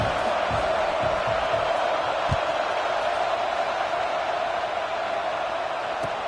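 Steady stadium crowd roar from a College Football 26 video game during a UCLA matchup, a dense, even wash of many voices with a few low thumps, heard alone without commentary.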